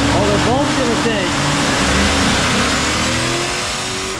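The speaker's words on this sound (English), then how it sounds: "I think we gotta do a proper burnout" A loud car engine revs hard through a burnout on an overlander wagon, with a rising whine early on followed by a sustained roar. A voice is heard faintly under the engine.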